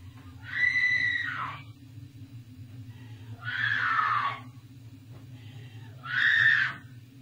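Three long, distant screams from the Blair Witch Project film ring out in a dark forest, each lasting about a second, over a steady low rumble.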